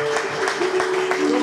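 A church congregation claps in a quick rhythmic burst during worship, with a sustained voice or tone running beneath it.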